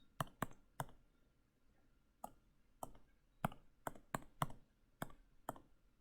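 Keys on a calculator are pressed one by one while matrix values go in, giving soft, close plastic clicks in irregular bursts with pauses between groups, faint and quiet against a still background.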